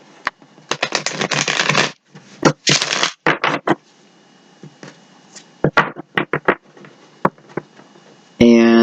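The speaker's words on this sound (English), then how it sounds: "One more good shuffle." Tarot cards shuffled by hand in loud, crisp riffling bursts separated by short pauses and lighter taps, and a voice enters at the very end.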